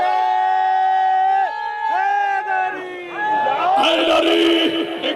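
A crowd at a Shia majlis in Burewala roars a religious slogan in unison in response to a call. A single voice intones first, then a loud, dense massed shout answers near the end.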